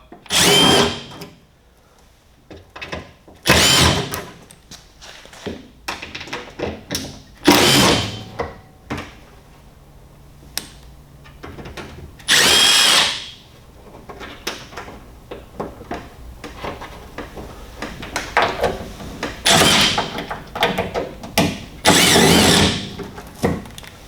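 Power drill backing screws out of the front cover of a Rinnai RU series condensing tankless water heater, loud close whirring bursts repeated several times with quieter handling noise between them.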